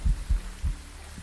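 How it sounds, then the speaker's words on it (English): A heartbeat thumps in the horror game Phasmophobia, with muffled low beats in quick pairs, loud and close, and nothing else over them. "I did, but I also heard my heartbeat."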